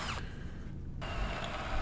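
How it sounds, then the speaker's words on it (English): A power drill bores holes for lag screws through steel angle iron for an anvil stand, a steady loud grinding whine that briefly changes pitch partway through. "Drilling holes for lag screws."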